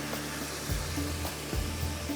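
Coarsely crushed whole coriander seeds and cumin sizzle in hot oil for qeema karahi, a short, quiet, steady frying hiss with a couple of soft stirring bumps.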